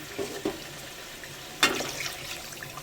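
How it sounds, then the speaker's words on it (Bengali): Water poured into a pan of spiced lentil dumpling curry, a brief splashing pour with a hiss after a couple of soft clinks, in a quiet kitchen. "মশলা কষানো হয়ে গেছে এবার এই জলটা দিয়ে দিচ্ছি"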